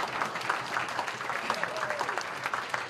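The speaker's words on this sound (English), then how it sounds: "give them a round of applause" Outdoor summer concert audience at a township park applauding the Cincinnati Civic Orchestra's helpers, a dense steady clapping that fills the space at moderate distance with a faint voice passing through.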